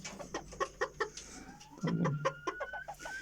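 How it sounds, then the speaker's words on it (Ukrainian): A broody hen on a home farm clucks close by in short repeated bursts, a run of low throaty clucks followed by a drawn-out grumbling call, with no talking. "От вона так кукає."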